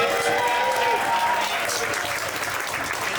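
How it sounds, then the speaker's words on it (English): Comedy roast battle crowd gives a loud, sustained round of applause, with voices and a cheer or whistle mixed into the clapping. "Can we give them another round of applause?"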